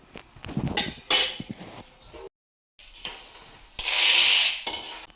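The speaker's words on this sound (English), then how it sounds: "so let us transfer into the Pavul" Cooked food is scraped and tipped out of a heavy pan into a bowl, heard as close metallic clinks, scrapes and sliding clatters in bursts, with a brief silent gap before louder scraping.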